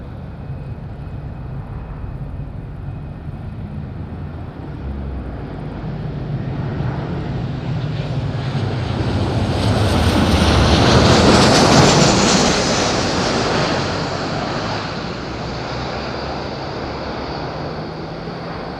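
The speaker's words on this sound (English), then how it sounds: "Left direct takeoff, Marabu 3 Bravo." An airliner takes off at Madeira Island Airport, its broad jet roar swelling steadily to a loud peak as it passes near, then easing off into a sustained rumble.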